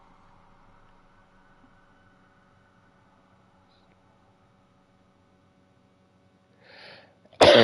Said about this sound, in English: Oh, I'm going to sneeze.